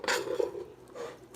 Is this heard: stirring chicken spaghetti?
yes